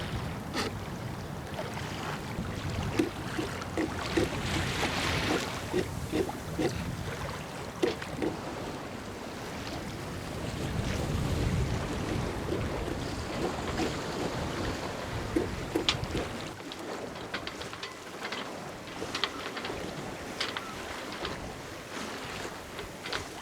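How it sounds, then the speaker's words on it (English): Strong winter wind of about 15 knots, gusting near 25, buffets a Shannon 28 sailboat under way, a loud, rough roar with gusty surges and water rushing along the hull throughout. "Woo, it's really blowing hard."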